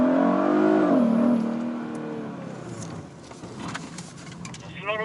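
Hyundai Sonata N Line in sport mode pulls away on a circuit, its engine note rising then falling as it accelerates, followed by tire and road noise with faint clicks near the end.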